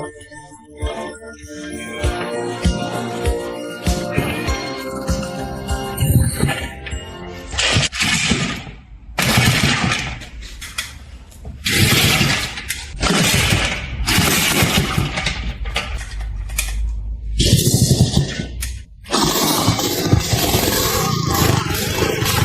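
A 1980s Xingfu 250 motorcycle engine fires up after restoration, starting with a rough, uneven rumble and then breaking into loud, sputtering bursts and pops that come close and strong with brief gaps between them.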